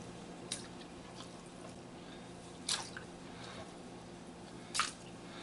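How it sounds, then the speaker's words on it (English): Raw largemouth bass pieces go into a pot of water, making three soft, brief wet plops spaced a couple of seconds apart over a quiet background. "I'm going to take this fish, I'm going to put it in a pot of water over here."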